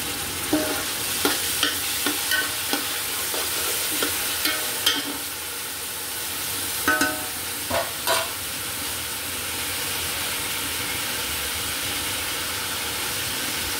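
Chopped carrots being stirred in hot oil in a pan while cooking pulao, with a steady sizzle and a few distinct scraping stirs in the first half, then a continuous frying hiss.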